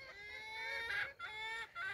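Free-roaming farm chickens near a wheat field give a run of harmonic, drawn-out clucking calls in several phrases, fairly faint and without talk.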